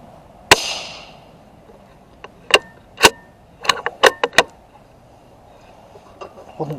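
A .17 HMR Lithgow LA1 rifle fired at a range, one sharp, loud, close crack early on, followed by several shorter clicks and clacks of bolt handling.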